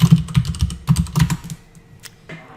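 Rapid typing on a computer keyboard during a customer chat demonstration: a close, dense run of clicking keystrokes for about a second and a half, then a few scattered taps fading out, with no talk.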